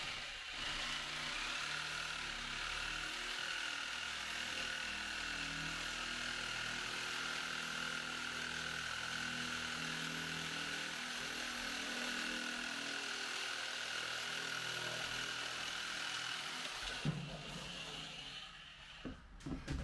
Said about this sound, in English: the grinder has absolutely no problem cutting through 2 layers of it